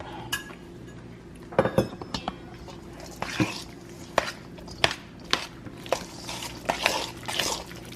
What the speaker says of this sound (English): I have 1 beaten egg. I'm gonna mix that up.